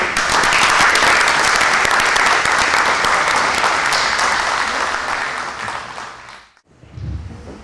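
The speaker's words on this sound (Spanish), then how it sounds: "Un aplauso para recibir a los..." An audience at a law school lecture applauds loudly and steadily, the clapping fading out toward the end before a brief low thump.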